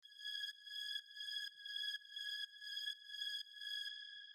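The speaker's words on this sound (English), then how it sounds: "the first sound that I have here is this like high string thing" High, bright string-like synth tone in the style of a Korg M1 sample, run through a granulator, repeating in short pulses about every half second with a steady glassy shimmer, played alone.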